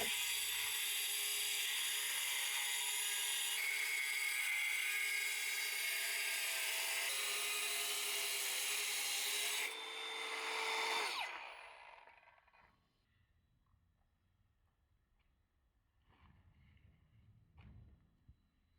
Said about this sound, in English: Then I took the big grinder, with a 230 millimeter disc made the first cuts.